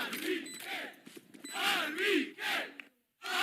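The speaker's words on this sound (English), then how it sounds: "And you can see the chants too in the crowd." Crowd chanting at a Valorant esports playoff match: a loud, rhythmic roar of many voices rising and falling in repeated waves, with a brief drop to silence near the end.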